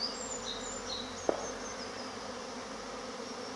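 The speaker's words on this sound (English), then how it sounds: "Amazing swarm of bees there." A steady, faint buzzing from a swarm of bees hangs in the air outdoors along a cool greenway, with one brief sharp knock partway through.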